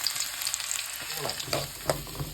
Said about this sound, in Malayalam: എണ്ണയൊന്ന് ചൂടായി നമുക്കിച്ചിരി വെളുത്തുള്ളി ഇടാം ഇഞ്ചിയും കൂടെ ഇടാം